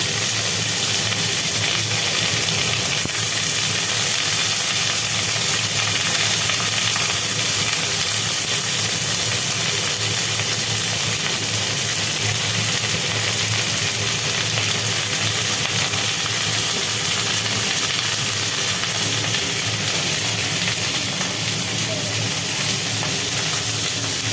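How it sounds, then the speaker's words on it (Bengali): Jackfruit pieces and potatoes frying in hot oil for a Bengali curry, giving a loud, steady, continuous hiss and sizzle that runs unbroken with no talking. "এইবার এঁচড়গুলো সব ছেড়ে দিলাম আলুর মধ্যে আলু এঁচড়ের তরকারি"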